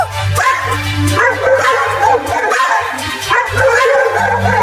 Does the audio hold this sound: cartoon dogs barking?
yes